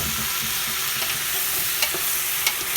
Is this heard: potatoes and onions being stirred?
yes